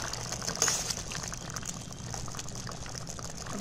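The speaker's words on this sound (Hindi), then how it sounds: "देखिए अच्छा सा बॉयल आ रहा है इसमें" Soybean curry gravy boiling in a pot, a steady, continuous bubbling hiss with soft liquid churning, close and moderately quiet throughout with a slightly louder burst near the start.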